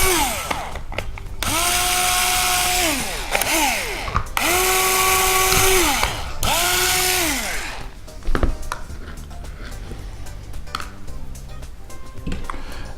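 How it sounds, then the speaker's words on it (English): A power drill bores a couple of pilot holes while battery mount lugs are installed on a quad, in three sustained whining bursts that rise and fall in pitch, followed by softer clicks and handling noises. "what we'll do is go ahead and do a couple pilot holes"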